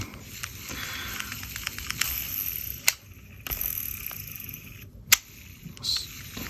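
A fishing reel spinning in free spool after oiling, giving a soft continuous whirring hiss with a few sharp clicks and mechanical ticks, close up and fairly quiet.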